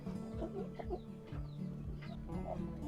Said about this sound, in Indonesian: Black Australorp warna hitam kumbang.